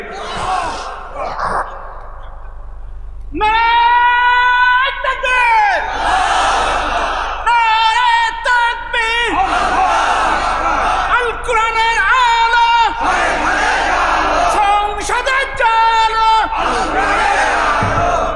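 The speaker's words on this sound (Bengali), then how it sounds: "তাকবীর দেন, লিল্লাহে তাকবীর।" At a Bengali waz sermon in Jhenaidah, a large crowd answers with loud, repeated takbir chants of Allahu Akbar in strong unison bursts, each call shouted back together, amplified and echoing over a PA.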